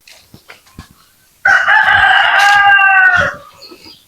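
A native rooster lets out one loud, close crow lasting about two seconds, preceded by soft clucks and scratching sounds from the flock.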